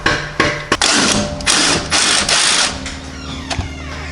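Ratchet clicks loosening the nut on a sway bar end link at the top of the strut of a 2017 Audi S3, bursts of close, loud, rapid ratcheting separated by short pauses.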